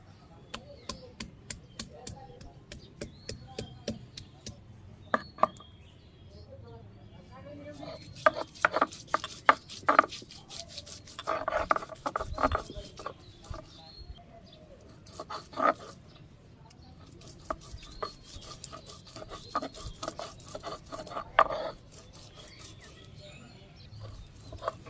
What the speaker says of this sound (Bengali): নিজে এখন আদা আর রসুন বাইটে নিব।